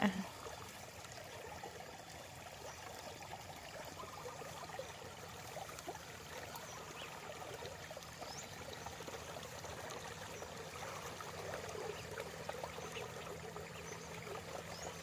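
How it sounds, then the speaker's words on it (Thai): Strong water flow on a Thai garden farm, a steady rushing stream with trickling texture, fairly faint and continuous for the whole stretch with no talk over it. "น้ำไหลแรงอ่ะ"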